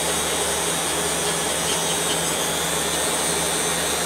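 A steady, loud whir from a motor-driven buffing wheel polishing Kydex plastic with buffing compound, running continuously without pause or voices.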